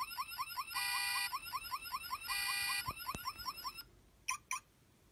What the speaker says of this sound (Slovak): Vieme pustiť alarm.